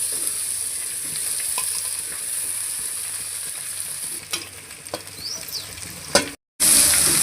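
Cooked rice being stirred together with pepper, turmeric and salt for mango pulihora, giving a steady close scraping and mixing texture with a few sharper clinks and a brief break near the end.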